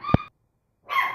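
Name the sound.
puppy barking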